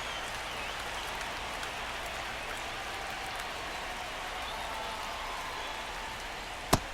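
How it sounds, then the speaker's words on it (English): Steady rain pours over a baseball stadium in the MLB The Show 25 video game, a constant even hiss lasting throughout, ending with one sharp faint click. "It really feels like we might be running out of time before a rain delay is called. This rain is not letting up."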